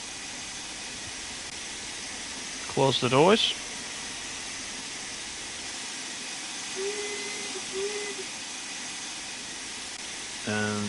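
Cylinder cocks on a steam locomotive in Train Sim World 2 give a steady, moderate hiss that runs throughout, while a short announcement and faint tones sound over it.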